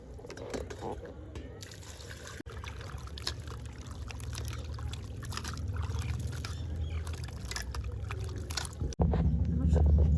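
Water is poured and sloshed over ash gourd pieces during repeated rinsing to wash out limewater, a continuous close pouring and splashing with someone talking over it.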